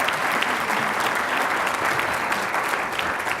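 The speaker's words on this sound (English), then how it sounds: "would you everyone give Cindy a big round of applause?" A conference audience gives sustained applause at an academic speaker event, a dense, even roar of many hands clapping throughout, without voices standing out.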